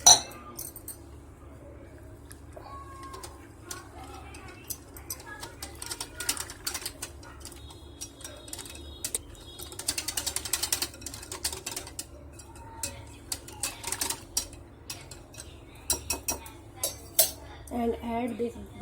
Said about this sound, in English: add 1 cup water and mix it well.